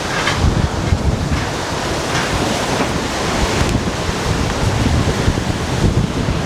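Extreme wind under an orange alert roars across the beach in Benidorm, loud and constant, with surf crashing and heavy gusts buffeting the microphone.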